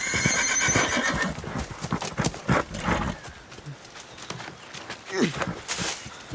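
A horse whinnies loudly near the start, then hooves clip-clop in an uneven walking rhythm with another neigh later, mixed with scuffles and rustling from a TV drama scene, with a voice speaking briefly.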